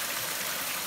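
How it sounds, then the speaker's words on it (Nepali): Water pours without pause from the stone spouts of the Saptadhara Panch Mandir temple in Nepal. The rushing flow is steady and fairly close, with no voices. "निरन्तर जल प्रवाह भइरहेको छ"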